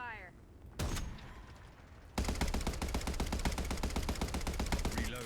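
Rapid automatic gunfire rattles in a tight, continuous stream during a competitive video game scrim, loud and close after an earlier single burst, with faint voices underneath.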